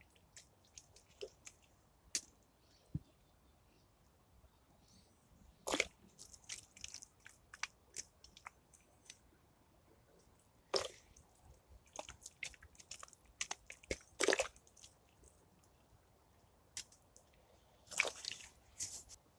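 Freshly sown kale seeds in compost are watered, giving faint, scattered drips, splashes and soft crackling patters over a quiet background, with a few louder splashes in irregular bursts.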